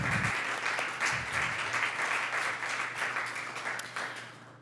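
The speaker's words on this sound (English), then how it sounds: "I'd love for everybody to just give a round of applause to Brandy Beal" An audience at a school board of education meeting applauds a teacher being recognized, a steady, dense round of clapping heard close and alone, tapering slightly toward the end.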